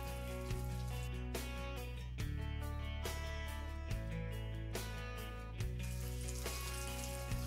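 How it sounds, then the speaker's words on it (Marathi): Eggs fry in oil with masala on a tawa over low gas, giving a faint, steady sizzle broken by soft, evenly spaced clicks, with no voices. "त्यामध्ये आपण अंडे टाकून देऊ।"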